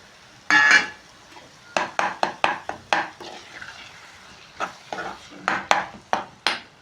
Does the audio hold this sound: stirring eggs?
yes